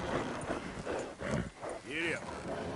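Horse hooves clip-clopping at a steady gait in Red Dead Redemption 2 gameplay on PS4, a soft continuous rhythmic patter mixed with a low game ambience and murmuring voice.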